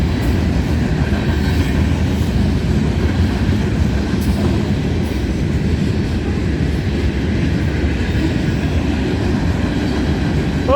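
Freight train of loaded grain hopper cars rolling past at night, a loud continuous rumble of wheels and car bodies with faint clatter, close and steady throughout with no talk.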